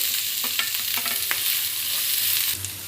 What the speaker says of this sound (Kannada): ಸ್ಟವ್ ಆನ್ ಮಾಡಿಕೊಂಡು ಸ್ವಲ್ಪ ಎಣ್ಣೆ ಹಾಕ್ಕೊಳ್ತಾ ಇದ್ದೀನಿ ಸ್ವಲ್ಪ ಸಾಸಿವೆ ಕರಿಬೇವಿನ ಸೊಪ್ಪು ಹಾಗೆ ಈರುಳ್ಳಿ